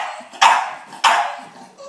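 A dog gives two sharp, loud barks close by, about half a second apart, with quiet between them.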